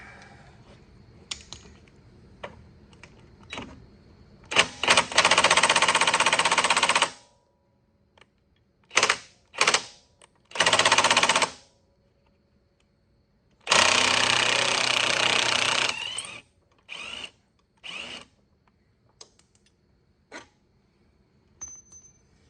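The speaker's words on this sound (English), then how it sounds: "Get my impact wrench." An impact wrench removes front A-arm bolts on a Yamaha Big Bear 350 4x4 ATV, firing in several loud, close hammering bursts of one to three seconds, with short rattles and clicks between them and no talk.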